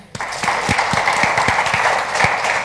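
Steady applause from a crowd, many hands clapping together with a few sharper individual claps standing out, fairly close and sustained throughout.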